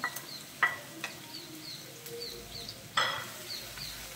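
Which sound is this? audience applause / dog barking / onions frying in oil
onions frying in oil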